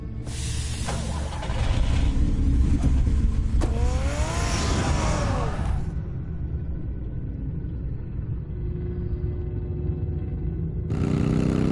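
A car engine in the Batman Telltale video game rumbles low and steady, with a brighter revving surge that cuts off abruptly midway, then a quieter hum before the roar returns near the end.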